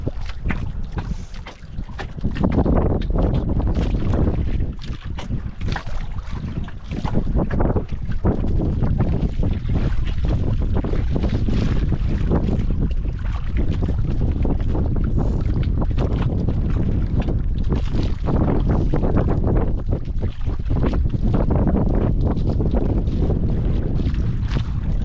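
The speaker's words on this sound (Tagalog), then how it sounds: "grabe ng hangin mga idol" Strong wind buffets a small boat at sea, roaring steadily into the microphone with heavy low rumbling gusts for the whole stretch, close and loud.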